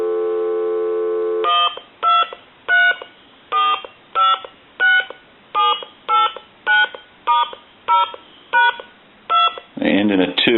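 Touch-tone keypad dialing on a Spirit of St. Louis speakerphone telephone: a dial tone, then about a dozen evenly spaced, loud DTMF beeps, ending in a burst of line noise.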